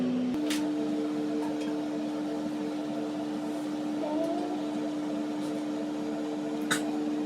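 An Ardesto GO S721W microwave oven runs with a steady electrical hum and turning plate, holding an even drone throughout with no voices.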